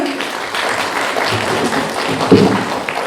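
Audience at a Ukrainian cultural-centre performance of Shevchenko's poetry applauding, close, loud clapping mixed with a few voices and shouts, continuing throughout.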